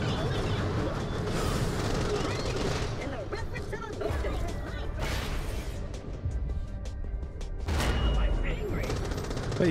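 Rapid gunfire from the Fatale gun being hip-fired in the video game Borderlands The Pre-Sequel, dense and loud bursts with booming impacts throughout, mixed with game sound effects.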